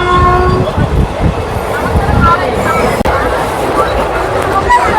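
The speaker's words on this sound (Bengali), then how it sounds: "আমাদের ট্রেন এখন দেওলটি ক্রস করছে।" A Santragachi–Digha winter special passenger train (02847) running near Deulti, with a steady loud rumble of wheels and carriages throughout, a brief horn-like tone early on, and voices talking under the noise.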